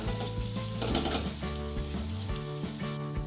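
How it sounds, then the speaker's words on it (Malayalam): Sliced large onions frying in oil in a pan while being stirred, with a steady close sizzle and occasional spoon scrapes throughout. "ഇതിന് ലൈറ്റ് ബ്രൗൺ ആവുന്ന വരെ ഒന്ന് ഇളക്കി കൊടുക്കുക."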